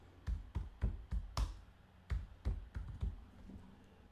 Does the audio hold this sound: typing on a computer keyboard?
yes